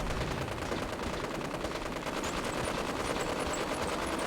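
Rapid sustained automatic gunfire in a wasteland video game, shooting at a pilot and blasting windows, a dense continuous rattle of shots, loud and close, with no talking.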